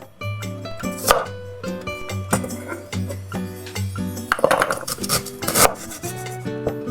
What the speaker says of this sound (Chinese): 把蒜一分为2